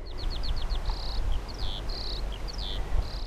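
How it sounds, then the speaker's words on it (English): A skylark on Lundy Island's coast sings a rapid, high, warbling string of chirps and trills over a steady low background rumble. "Listen to that skylark go."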